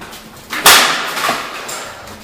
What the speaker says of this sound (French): Il y a le téléphone qui vient de tomber.